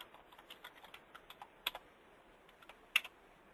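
Faint, sparse keystrokes on a computer keyboard while a formula is typed into an Excel spreadsheet, with a couple of sharper key taps near the end and no voice.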